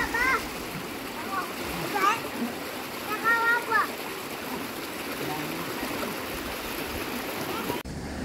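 Water splashing in a river during a summer camping trip in Cazorla, with a steady stream rushing beneath, brief bird chirps and a voice in the background.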